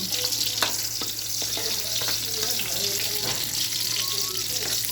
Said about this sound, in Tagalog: Igisa po muna natin.